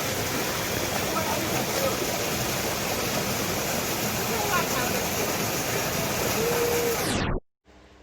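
Reach Falls waterfall in Portland, Jamaica pours with a loud, steady rushing roar close by, unbroken for about seven seconds before cutting off abruptly near the end.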